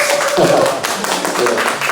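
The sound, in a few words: congregation clapping to bless each other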